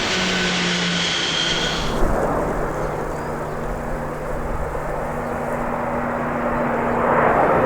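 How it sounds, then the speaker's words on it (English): An Antonov 225, the largest airplane ever built, roars overhead with a broad, sustained jet-engine rumble and whine that holds steady and swells slightly near the end, loud and alone. "The Antonov 225, the largest airplane ever built."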